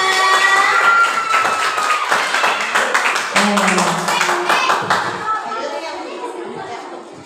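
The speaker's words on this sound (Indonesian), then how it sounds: "Beri tepuk tangan untuk kelompok Kayuri dan Queen." Schoolchildren in a classroom clap for a student group, a burst of scattered applause mixed with children's voices and chatter, tapering off toward the end.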